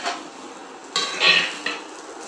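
Fried okra is lifted from a pan into a bowl, bringing a few close metallic scrapes and clinks of a utensil against cookware, with a faint sizzle between the knocks.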